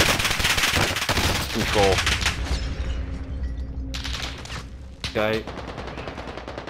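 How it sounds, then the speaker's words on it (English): Rapid automatic gunfire bursts from the video game Warzone, loud and close, with dense rattling volleys and a sharp burst near the end, overlapping brief player talk. "Shit, I'm getting shot at."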